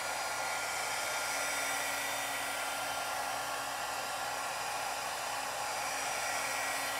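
A heat gun blows hot air during a craft project, making a steady, even, unbroken roar close by with no talking over it.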